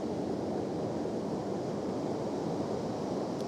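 Steady, loud roar of ocean surf rolling onto a beach in Olympic National Park, a dense continuous wash with no voices.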